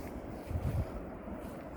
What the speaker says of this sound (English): You can probably hear the water too.